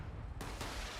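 Explosions and gunfire from the video game Fallout 76 sound during a live event. Sharp bursts cut through a constant rumbling din, fairly faint overall.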